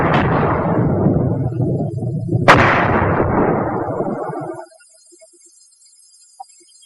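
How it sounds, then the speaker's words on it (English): A World War II–era 81 mm mortar shell explodes in one sharp, loud blast, followed by a long rumbling roar of debris and echo that fades out after a few seconds, leaving near silence. "an exploding mortar shell can kill"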